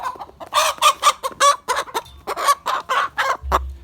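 A sick hen with a cold, an infection and sore eyes clucks in a steady run of short, rough, repeated calls, close and loud, with a faint low thump at the end.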